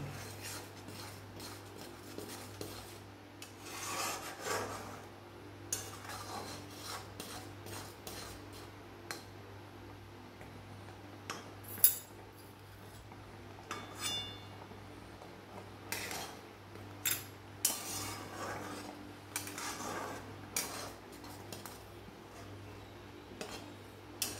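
Momo sauce mixed with a spoon in a bowl: quiet, repeated scraping and clinking strokes in an irregular rhythm over about twenty seconds, with a low hum in the background.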